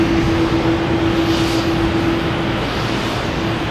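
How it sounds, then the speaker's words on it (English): JetBlue Airbus A321 jet from LAX at Boston Logan Airport, heard as a steady broadband engine roar with a faint tonal whine that fades partway through, constant and fairly loud with no voices. "It's JetBlue from LAX, flight 288, and A321."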